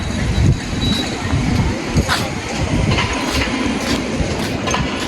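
Busy railway station platform at Cox's Bazar with a Dhaka-bound train standing and waiting, a loud rumble of rail and crowd activity with clanks and metallic knocks, steady throughout, no clear talk.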